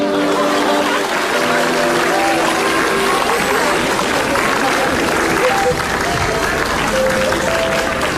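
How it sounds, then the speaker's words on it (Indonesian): A studio audience at an Indonesian comedy talk show breaks into dense, sustained applause, loud and even throughout, with a few voices faintly audible underneath. "Tepuk tangan"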